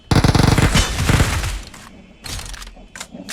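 Gunfire in a shooting video game: a rapid close burst of automatic shots, then a few scattered single cracks and thuds.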